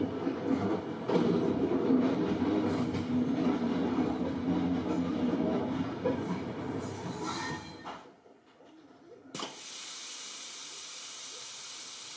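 Intercity Notte sleeper train cars being pushed back onto a train ferry: a loud, continuous rumble of rolling wagons with hissing and faint wheel squeal, then a sudden drop to quieter mechanical hiss and hum.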